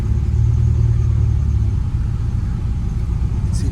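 An Acura Integra, newly swapped to a manual transmission, idles steadily while warming up to operating temperature, a continuous low engine rumble, loud and close, with no voices.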